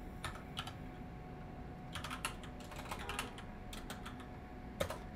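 Quiet, close typing on a computer keyboard, irregular bursts of soft key clicks with short pauses between them and one slightly sharper tap near the end.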